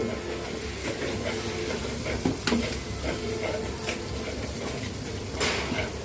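Eggs hitting a hot frying pan for a noodle dish give a steady broadband sizzle with light stirring scrapes and a couple of brief clatters, close and continuous throughout.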